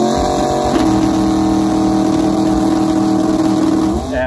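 Loud, sustained drone of a twin-turbo 5.0L Coyote V8 race car engine holding a high, steady rev with a harsh buzzing tone, close by, briefly dipping near the end.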